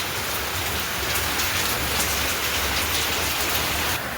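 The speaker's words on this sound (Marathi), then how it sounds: "आता पाऊस अजून जोरदार चालू झाला आहे पावसाचा आवाज तुम्हाला येत असेल" Heavy rain pours down steadily, a dense, loud hiss of drops hitting surfaces close by, with no voices.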